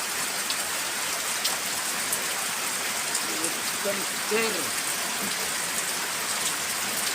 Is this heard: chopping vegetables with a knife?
no